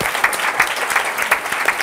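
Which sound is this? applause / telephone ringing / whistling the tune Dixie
applause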